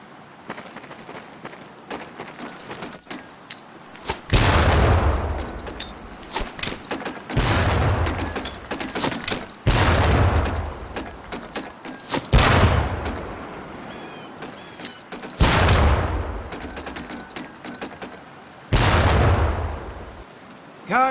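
Training grenades explode one after another in Medal of Honor Pacific Assault boot camp, six or seven loud booming blasts spaced a few seconds apart with rumbling decay.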